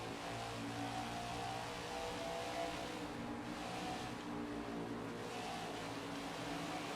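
Continuous engine drone of NASCAR 21 race cars at Darlington, a steady, dense roar with layered tonal hum, fairly even in loudness with no speech.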